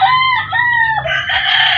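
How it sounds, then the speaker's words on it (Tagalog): Chickens and a rooster at a farmyard feeding time, with a loud, close rooster crow rising over steady nearby clucking and squawking, continuous through the short stretch with no talk. "Kaya katawa naman yung mga manok ay oh. Kanya-kanyang takbuhan."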